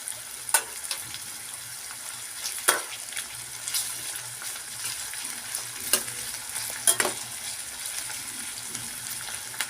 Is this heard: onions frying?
yes